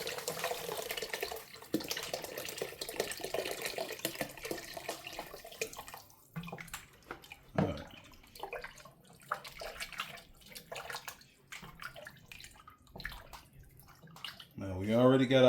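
Water pours and splashes into a chili pot full of onions to deglaze the browned bottom, a faint gurgling stream in bursts, ending with a louder slosh.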